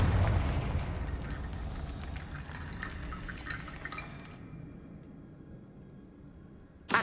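A Confringo fire spell in Hogwarts Legacy explodes with a loud opening blast that rolls into a long, fading crackle and rumble, then a sharp hit at the very end.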